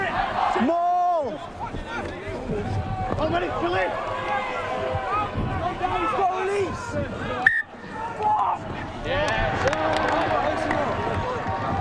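Supporters at a schools under-18 rugby union cup semi-final, St Ambrose against Pangbourne, cheering their player: loud continuous crowd roar and shouting, with a commentator's voice running over it.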